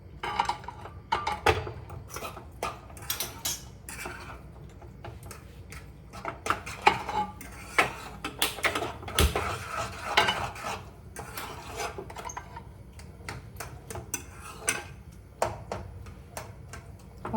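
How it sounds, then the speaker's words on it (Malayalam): A spoon or whisk clatters and scrapes against a bowl in quick irregular strokes while noodle omelette batter is mixed, a close and fairly busy tapping rhythm. "അപ്പം ഇനി നമുക്കിത് നന്നായിട്ട് മിക്സ് ചെയ്ത് കൊടുക്കാം"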